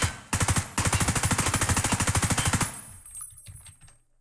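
Rapid automatic M4 rifle fire in Escape from Tarkov, a fast burst with a short break, then a longer sustained stream of shots that stops abruptly.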